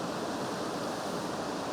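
Steady broadband rush of a river stream in the Yorkshire Dales, close and continuous, filling the whole short stretch with no voices.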